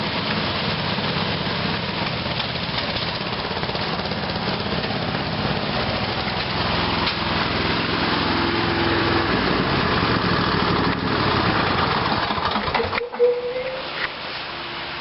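Two lawn tractor engines run together in a steady, loud drone, one of them backfiring, before the noise cuts off abruptly near the end.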